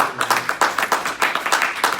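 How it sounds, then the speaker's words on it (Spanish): Crowd applause with rapid, dense clapping throughout, moderately loud and fairly close, with no talking over it. "Dale un aplauso a Cristo por la nación de Israel."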